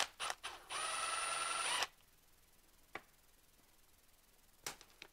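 A T25 Torx bit on a power tool whirs briefly and close while disconnecting the cable from an Arctic Cat power valve, preceded by small clicks and followed by a few faint taps.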